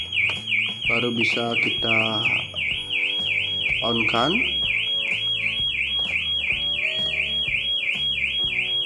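A loud electronic car alarm on a Range Rover Evoque whoops in a steady rising-and-falling cycle throughout, with someone speaking briefly over it near the start.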